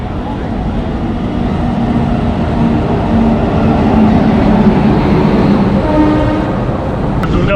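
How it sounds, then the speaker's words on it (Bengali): A passenger train pulls out of Durgapur railway station, a loud, close, continuous rumble of wheels and carriages that builds steadily, with a brief sharp sound right at the end. "দুর্গাপুর থেকে ট্রেন তোমার রাইট টাইমে ছেড়ে দিল,"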